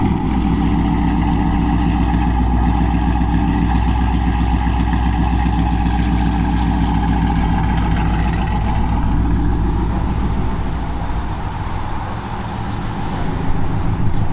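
A Dodge Charger Scat Pack fitted with BBK long-tube headers idles with a loud, deep, continuous engine rumble that holds steady for about fourteen seconds, close to the car with no speech.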